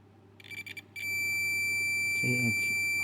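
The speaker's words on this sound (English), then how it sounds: "as you can hear it, it's beeping. It means there is a short there." A multimeter in continuity mode beeps on a shorted capacitor on an Onkyo HDMI board: a few short chirps, then one loud, steady high tone held to the end, with someone speaking over it.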